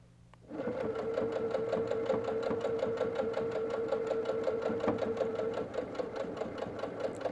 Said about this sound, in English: I bring that presser foot down, and then I'm ready to sew again